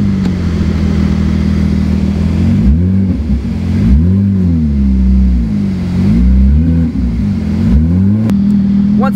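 A loud V10 Audi R8 engine revs repeatedly, its pitch climbing and dropping in several sweeping surges over a steady, throaty drone, heard up close with no talking.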